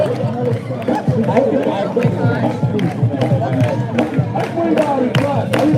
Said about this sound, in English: Now everybody clap. Everybody clap.